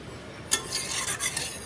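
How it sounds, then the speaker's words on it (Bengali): A spoon stirs simmering meat with added water in a cooking pot, giving a scraping, sloshing stir with a sharp clink near the start, close and fairly loud, no talk. "এই দেখো নেড়ে নিচ্ছি।"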